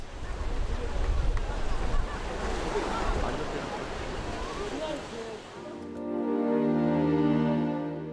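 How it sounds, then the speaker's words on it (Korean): Sea waves break and wash on the rocky shore at Gyeokpo Chaeseokgang on the Byeonsan Peninsula, Buan, making a loud, steady rushing surf; a low droning tone takes over in the final seconds. "파도 소리에 이끌려 정처 없이 따라 나선 곳은 격포 채석강."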